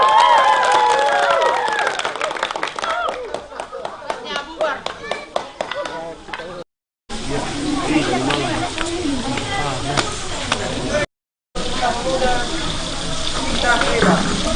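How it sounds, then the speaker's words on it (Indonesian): An audience at a Koperasi Bintang Muda gathering claps in bursts of scattered, moderately loud applause, mixed with cheering and a voice talking through it. "Oke, beri aplaus untuk kita"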